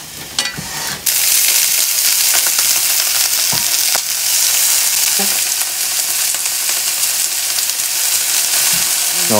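Garlic and ginger frying in oil in a home Chinese kitchen, a steady loud sizzle that fills the whole clip, with a few clinks and scrapes from stirring.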